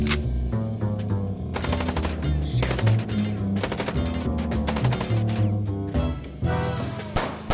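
Rapid bursts of automatic gunfire from the video game Chicken Police rattle loudly in repeated volleys over a low droning background score, with brief pauses between strings of shots.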